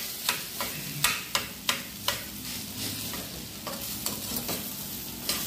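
Urad dal frying in oil in a heavy-bottomed pan for banana flower paruppu usili, a continuous close sizzle punctuated by regular sharp spoon taps and scrapes against the pan, without speech.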